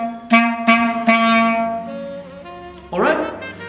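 Clarinet plays a short rhythmic figure in crotchets and quavers, three tongued notes followed by a sustained tone and a final attack, close and solo with no talking.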